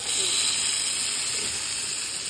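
Spices crackle and sizzle in hot oil for a tempering (phodni) for a vegetable dish at a night camp cookout: a steady, loud, bright hiss held evenly throughout, with no pauses.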